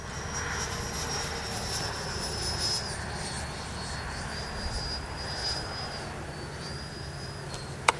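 A Freewing 90mm Zeus RC jet flies past, a steady ducted-fan whine with a high tonal line that shifts in pitch as it moves, held at a constant moderate level throughout.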